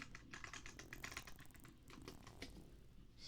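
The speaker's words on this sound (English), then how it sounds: "you want to hear my keyboard?" Quiet, close typing on a computer keyboard, a quick irregular patter of soft key clicks with short pauses, alone and without speech.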